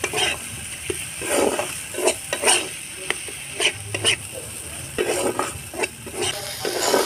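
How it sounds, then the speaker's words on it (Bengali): Spice paste for a fish curry being stirred and fried in a pan, with repeated scraping strokes of a spatula over a steady sizzle in an uneven rhythm. No voices. "ভালো করে মশলাটা কষিয়ে নেব।"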